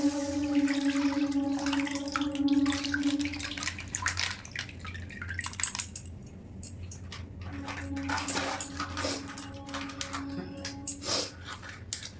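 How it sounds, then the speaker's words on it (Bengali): Amul Gold full cream milk pours into a kadai for milk cake, a steady liquid trickle and dripping that stops and resumes, close by over a faint tonal hum. "আমুল গোল্ড ফুল ক্রিম দুধ আমি কড়ার মধ্যে দিয়ে দিলাম"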